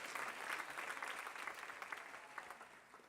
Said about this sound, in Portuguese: uma salva de palmas para Ivan Moreira